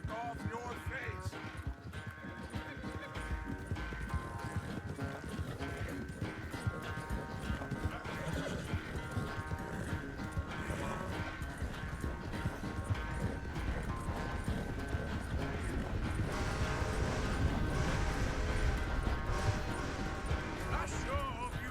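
A horse in Red Dead Redemption 2 trots with steady hoof clops and lets out neighs, while characters talk over the riding and tack rattles faintly.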